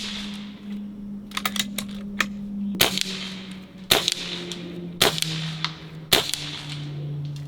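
A Barra 1100z .22 air rifle firing pellets, several sharp, close cracks spaced about a second apart, each followed by brief rattling, over a steady low hum.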